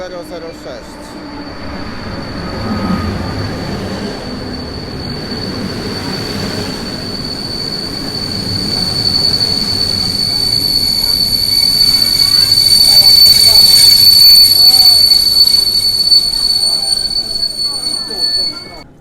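An Intercity Zamojski train hauled by an EU160 locomotive rolls through Warszawa Zachodnia station in snow, with a sustained high wheel squeal over steady rumbling rail noise that swells louder toward the end.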